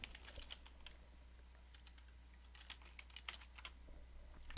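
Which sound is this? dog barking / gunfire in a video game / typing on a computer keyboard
typing on a computer keyboard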